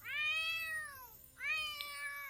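A video-game cat meows twice, close and clear, the first a drawn-out cry of about a second and the second shorter after a brief pause, with no talk over it.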